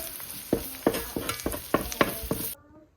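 Eggs being scrambled in a pan for breakfast: a run of about eight distinct scraping stirs at a steady pace, close and moderately loud over a faint steady sizzle, ending in near quiet.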